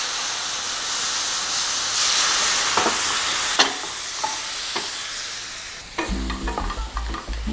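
Dry white wine deglazing a pan of chayote and shrimp, a loud continuous sizzle and steamy hiss with a few scraping stir strokes, building to a sharper crackling burst near the end, no speech.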